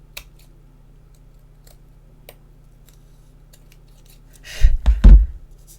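Scissors trimming a paper sketch card, a few faint snips early on followed by two louder, close cuts near the end in an otherwise quiet setting.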